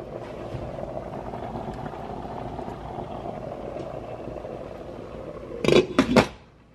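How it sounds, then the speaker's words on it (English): Turkey sloppy joe pasta sauce simmering under a lid in a pot, giving a steady low bubbling burble throughout, then a few sharp clanks of a lid or utensil against the pot near the end. "So now we're gonna bring this to a boil, pop a lid on, reduce the heat,"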